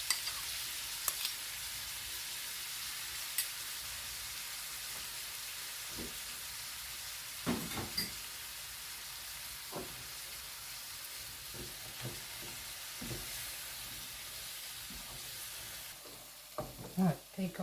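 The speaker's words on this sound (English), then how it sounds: "going to add our lovely sauce. And mix that through." Sauce is mixed through crispy chilli beef in a hot pan, giving a soft, steady sizzle under repeated scraping and stirring clatters that grow busier near the end.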